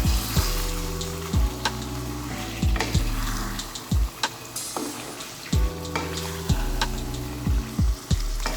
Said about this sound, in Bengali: এবার পেঁয়াজটা মাংসের সাথে ভালো করে মিশিয়ে নিতে হবে।